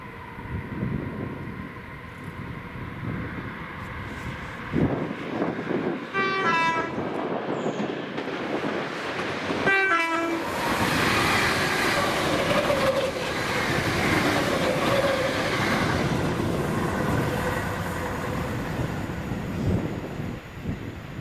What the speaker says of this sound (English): this was 2C30, the 1250 ScotRail service to Cumbernauld from Mulgai, with 32415 and 403 on the job